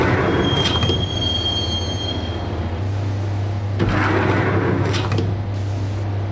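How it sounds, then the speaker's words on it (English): Subway train ride in the Max Payne video game: a loud steady rumble of a moving train with a long high wheel squeal early on and a low droning hum, plus a few rattling clanks. "the train doors had already shut behind me, and I was in for the ride"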